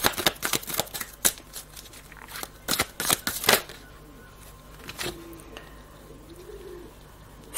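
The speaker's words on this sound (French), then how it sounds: "Il y a les pigeons qui roucoulent au-dessus de" Pigeons coo softly overhead, with a low warbling call around the five-second mark and again near the end, after an opening stretch of sharp clicks and rustling. Nobody speaks.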